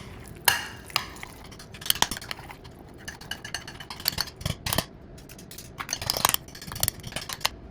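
A spoon mixes mango sauce in a bowl, giving irregular metallic clinks and scrapes against the dish, some sharp and close, with short pauses between strokes and no talking.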